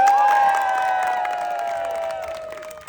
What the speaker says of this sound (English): Let's give him a real round of applause.